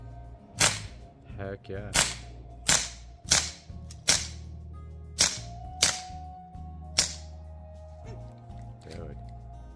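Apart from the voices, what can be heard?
replica Glock 9mm pistol mag dump gunfire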